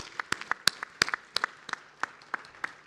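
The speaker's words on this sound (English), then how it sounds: "please big applause for us" A small conference audience claps sparsely and unevenly after an oil and gas industry session speech, with scattered sharp hand claps rather than a full roar, heard fairly quietly.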